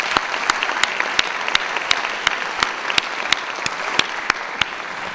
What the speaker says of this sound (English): A big round of applause for all of them, please.